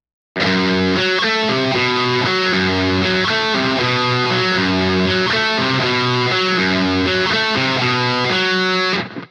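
A distorted electric guitar plays a riff at a brisk tempo, loud and steady throughout with no voices.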